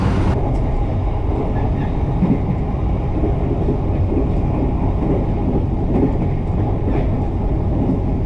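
Menoreh passenger train running from Jakarta to Semarang, a loud, steady rumble of wheels and carriage from inside the train with a faint clickety-clack and no voices.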